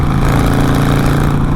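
A Harley-Davidson motorcycle with a leaking exhaust idles steadily and loudly up close, a deep continuous engine rumble with a faint rapid ticking beneath it and no voices.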